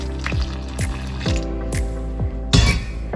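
Small splashes of hot and cold water drip and pour in several short bursts into flour dough, with soft wet mixing sounds between them, close up and fairly loud.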